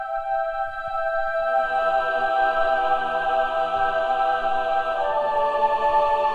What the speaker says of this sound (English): I pan the male choir to the right, the females to the left, and then I left the children up the middle